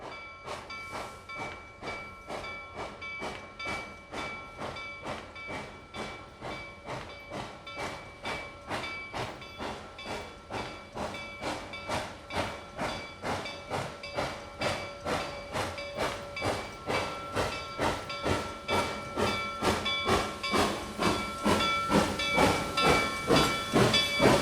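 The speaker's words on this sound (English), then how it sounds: "Later, the train pulls back into the station where passengers will reboard." Steam locomotive easing back into a station, a long run of evenly spaced chuffs and hissing exhaust bursts that grow louder and quicken slightly as it nears, with a steady tonal hiss throughout.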